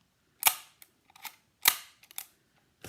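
A Scotch tape gun squeezed and released, giving two sharp snapping clicks with smaller ticks and rasps after each as tape feeds and cuts, close and crisp against quiet.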